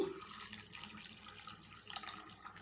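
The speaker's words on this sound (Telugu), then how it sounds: "నీళ్ళు పోసి శుభ్రంగా రెండు మూడు సార్లు కలుపుకోవాలి" Soft splashing and swirling of water as lentils are washed in a container, with a few faint trickles, quiet and close.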